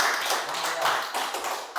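Schoolchildren clap for a group that has just presented in class, a moderate patter of overlapping claps with small rhythmic surges, heard fairly close and without speech over it.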